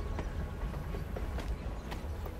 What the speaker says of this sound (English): Going by train.